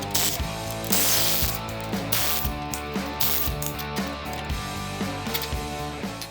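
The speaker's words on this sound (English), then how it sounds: "We're going to take these 4 nuts off and we're going to go ahead and remove this whole plate away from the assembly." A ratchet spins off the four nuts holding a factory U-bolt plate on a truck suspension during a flip kit install, giving a steady rhythm of quick mechanical clicks, close and fairly loud, with no talk.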